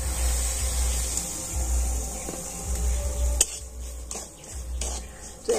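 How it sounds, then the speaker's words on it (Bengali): Semolina tipped into a pan of hot melted ghee on a low flame and stirred, a steady low hiss and scraping with a few soft clinks of the spoon against the pan, close and fairly quiet. "বাটি সুজি আমি ঘিয়ের মধ্যে দিয়ে দিচ্ছি"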